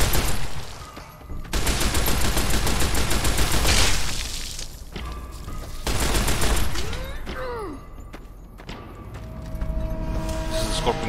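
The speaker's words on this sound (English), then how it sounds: "Might as well use the shoulder-mounted machine gun since we got it." A shoulder-mounted machine gun in the video game Fallout: New Vegas fires loud, dense bursts in two long stretches, separated by a short lull and followed by quieter game sounds.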